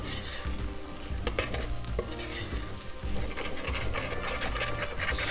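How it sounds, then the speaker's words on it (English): Spatula scraping curry and spices off the bottom of a hot frying pan, continuous rough scratching strokes with a faint sizzle underneath, close and fairly quiet. "Scraping all this flavour off the bottom of the pan."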